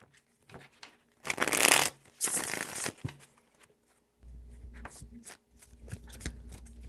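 Tarot cards are riffled in two close, crisp bursts of shuffling. Lighter taps and rustles of handling follow, with no voice.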